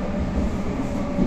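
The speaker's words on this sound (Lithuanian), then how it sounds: "Tuščias tramvajus, mes tik tai vieni važiuojam." An empty tram rolls through Warsaw near the East railway station, giving a steady, close rumble of wheels and motor inside the car with no voices.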